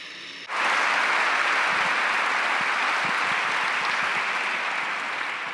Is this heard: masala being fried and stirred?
no